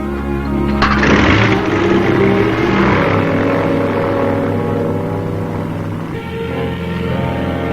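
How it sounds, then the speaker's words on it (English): A small civilian light propeller plane's engine drones loudly and steadily, close by, rising in a burst early on and then holding an even roar. "Civilian light planes like these, flown by CAP volunteers"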